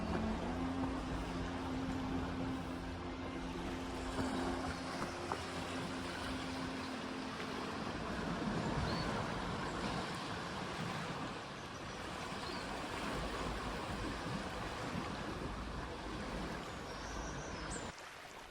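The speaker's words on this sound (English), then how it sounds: "listening to the lappings of the water" Water lapping gently at the shore along the Kerry Way hiking trail in Ireland, a steady soft wash with no talk, a low hum running under it through the first half.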